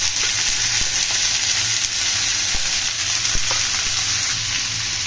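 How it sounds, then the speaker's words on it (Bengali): Steady, loud sizzling of watermelon rind frying in a hot pan, a continuous crackling hiss with occasional soft clicks and no voices. "এখন এটাকে আমি ভালো করে লালচে করে ভেজে নিব।"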